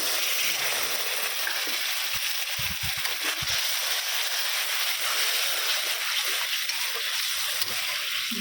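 Water poured into a pan of frying food in a home kitchen, a steady loud hiss and sizzle with faint bubbling and light clinks throughout, no voices.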